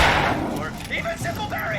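Gunfire in the video game Alan Wake Remastered: a burst of shots and booming impacts, mixed with tonal game effects, heard under a voice talking throughout.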